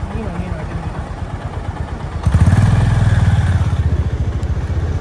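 A motorcycle engine putters at idle up close, then revs up and runs louder and rougher for the rest of the clip.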